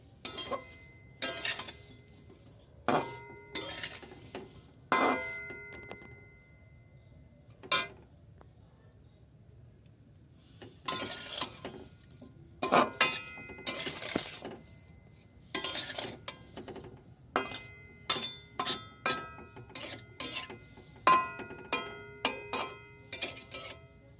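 Stirring sugar through hot chopped ash gourd in a pot for morabba, with sharp intermittent scrapes and clinks of a spoon against the pot, coming in irregular clusters separated by quiet pauses.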